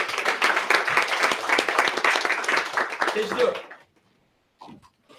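Audience applause at a startup pitch event as the next team is called to the stage: a dense burst of clapping lasting several seconds, then it cuts off abruptly, followed by a brief voice.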